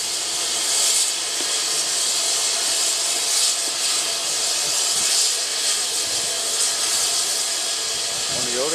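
Class 67 diesel locomotive running on the Severn Valley Railway, a loud steady roar with hissing and broadband engine noise held throughout, with no clear speech over it.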